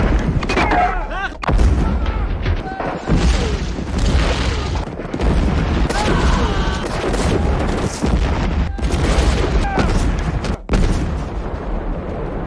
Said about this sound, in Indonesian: mereka langsung dibombardir oleh artileri Jerman